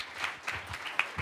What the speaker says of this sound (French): On peut applaudir, évidemment, le trajet.